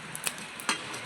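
Cumin seeds sizzle in hot oil in a home kitchen pan, a faint, brief hiss broken by a few sharp crackles and pops.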